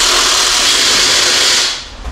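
A power tool whirs as it tightens a bolt during a Roxor build, giving a loud, close, steady burst for about a second and a half before cutting off into faint clatter.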